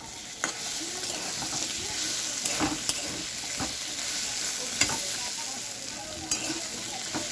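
Crab fries in hot oil with a constant close sizzle, punctuated by several sharp scrapes and knocks of a spoon stirring against the pan.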